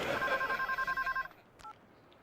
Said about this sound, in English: the other phone is ringing